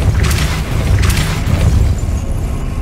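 Depulsor spell blasts in Hogwarts Legacy, cast on PC: a few deep booming bursts with bright crackling onsets, roughly every second, over a steady low rumble.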